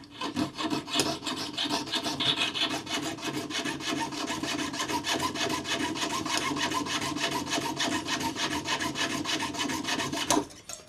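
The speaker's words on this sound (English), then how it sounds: "So I'm going to go on the other side now and saw down." Hand saw cutting down the side of a tapered collet clamped in a bench vise, a steady rapid rasping stroke that runs continuously for about ten seconds, close and fairly loud, with no talk.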